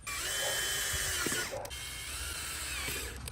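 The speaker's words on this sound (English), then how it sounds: "I'm going to drill some drainage holes in it." A power drill whines steadily up close while drilling drainage holes in a mold, briefly dipping in pitch as it bites into the material, then running on with a high mechanical hum.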